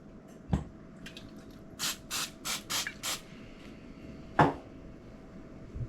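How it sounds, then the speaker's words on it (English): Five quick hissing bursts of cooking spray onto toast in a steady rhythm, close by, with a couple of soft clicks and taps before and after. "I'm going to take the spray and spray my toast"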